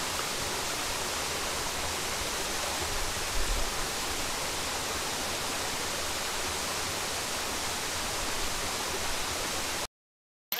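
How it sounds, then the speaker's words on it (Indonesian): A steady, even rush of falling water from Temburun waterfall in Lombok hisses continuously at moderate distance, then cuts off abruptly near the end. "saatnya kita mandi di bawah air terjun ini"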